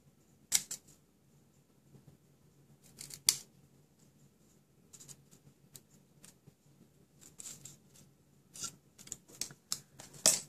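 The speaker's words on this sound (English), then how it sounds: "Grab my little scissors." Scissors snip through paper in scattered bursts of crisp cuts, some single and some in quick clusters, over a quiet room hum.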